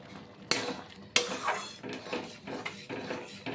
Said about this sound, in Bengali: নেড়ে চেড়ে নিলাম ভালো করে মিশিয়ে।